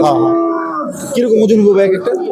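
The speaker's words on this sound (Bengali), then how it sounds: "সিন্ধি গরু" Sindhi cattle at a busy cattle market give a loud, drawn-out moo close by, followed by further lowing sounds, with market voices audible around them.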